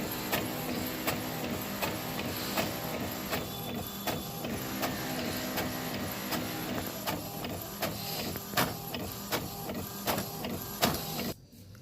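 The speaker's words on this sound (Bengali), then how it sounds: "ডিজাইনটা আমি ফটোশপ থেকে একটা সাবলিমেশন পেপারে প্রিন্ট করে নিলাম" An inkjet printer prints a design onto sublimation paper, a steady continuous mechanical whir with regular clicking carriage passes, close and loud throughout, stopping abruptly at the end.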